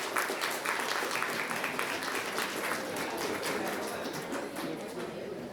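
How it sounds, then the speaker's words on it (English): Applause from an audience at a pharmacy awareness event, steady and fairly quiet, a few seconds of continuous clapping with no break. "Please give a round of applause."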